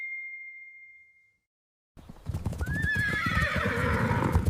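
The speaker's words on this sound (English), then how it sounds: "Wow, horses are running fast." A short chime fades into silence, then horses whinny loudly over rapid, rumbling hoofbeats as a herd gallops close by.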